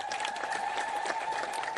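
A group of administrators applauding at a meeting, a brief burst of steady, even clapping heard from a moderate distance, with no other clear sounds.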